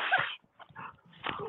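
A hunting dog whimpers and yips while chasing a muskrat outdoors, giving a loud high whine at the start, then softer broken whimpers and a final sharper cry, with no talk.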